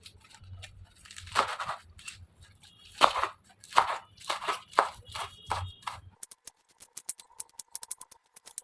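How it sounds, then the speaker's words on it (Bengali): Washed water spinach (kolmi shak) leaves are finely chopped with a knife, giving a run of close, uneven thuds and crunchy strikes that fade into lighter, quicker taps. "এগুলো ধুয়ে একদম ছোট ছোট করে কেটে নেব।"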